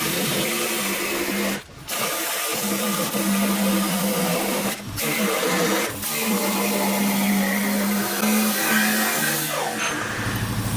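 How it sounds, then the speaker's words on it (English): An electric air saw cuts through a duck boat hull, a steady close buzzing whine running for several seconds with a few short pauses. "This is what I call an air saw."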